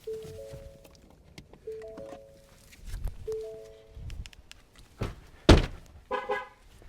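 Ford Mustang GT PP V8 giving short horn chirps as a warning that the windows were left open, three spaced beeps followed by loud thumps and a final electronic tone, heard nearby outdoors.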